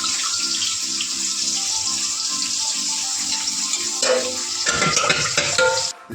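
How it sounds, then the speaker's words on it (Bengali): Fish frying in a pan on a home kitchen stove gives a continuous sizzle mixed with stirring and running water, ending in a burst of louder clattering near the end. "এখানে আমি মাছ ভাজা বসিয়ে দিয়েছি মাছটা ভেজে নেবো"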